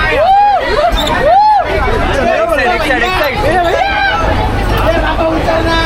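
Loud crowd bustle with overlapping chatter and voices in a busy outdoor spot on a boys' trip, steady babble throughout with some distinct nearby talking and shouting.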